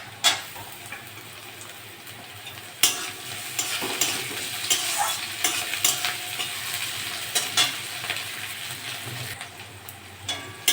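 Vegetables, including green chili and capsicum, fry and sizzle in a pan for a Mughlai recipe with boiled potato and carrot. A spoon scrapes and clacks at irregular intervals over a steady hiss, close up and without talk.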